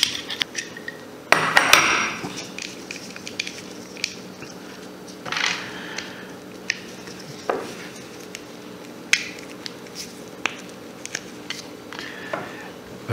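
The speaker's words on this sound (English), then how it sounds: "take these apart with a wrench and see if I can fix" Scraper tools with interchangeable blades are worked apart with a wrench: a loud clank near the start, then scattered sharp metal clicks and taps at irregular intervals, close by.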